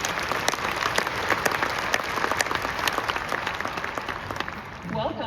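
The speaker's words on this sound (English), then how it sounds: "can I have a hand of applause, please?" Conference audience applauding steadily at a tech event in Las Vegas, dense sustained clapping close to the listener that thins slightly toward the end.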